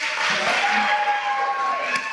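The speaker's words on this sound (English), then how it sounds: "let's give them one more round of applause" Elementary school audience gives fifth grade chorus students another round of applause at an awards ceremony, a dense steady wash of clapping and crowd noise filling the whole stretch.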